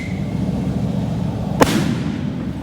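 Wedding-celebration fireworks go off in Mexico: one sharp, fairly distant bang over a steady background murmur, with no other bursts.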